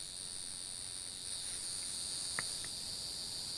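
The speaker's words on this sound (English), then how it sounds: "a lot of these maple trees are buzzing" Maple trees in a video game give off a steady, high, cicada-like insect buzz, a continuous drone at moderate volume with a couple of faint clicks partway through.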